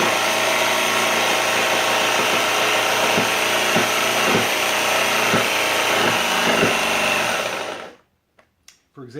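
A saber-style jigsaw cuts a sink cutout through wood with a steady buzzing drone, punctuated by sharp popping knocks as the base plate lifts, before the saw stops abruptly near the end.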